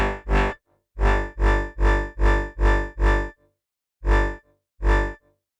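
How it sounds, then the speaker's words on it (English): A distorted bass synth patch shaped with phase distortion in Phase Plant plays loud, buzzy notes in a rhythmic pattern: two hits, a run of five evenly spaced notes, then two more separated by gaps of silence. "Phase distortion."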